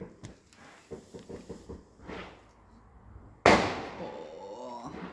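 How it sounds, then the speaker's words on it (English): Fireworks going off at night near a road: soft crackles and pops early on, then a loud sharp bang close overhead with a ringing, fading echo. "Despite all those fireworks going on at the end of the road, JJ has come back."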